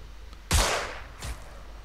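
Two sharp gunshots from the Xenonauts tactical strategy game, a loud crack followed by a fainter second report about three-quarters of a second later, each with a short decaying tail.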